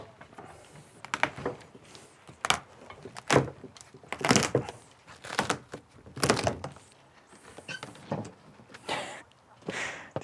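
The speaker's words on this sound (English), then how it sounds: "Let's take this door off" Repeated wooden knocks, bangs and rattles as a door is worked loose and taken off an old wooden shed during demolition, a series of close, uneven thumps with short pauses between them and no talking.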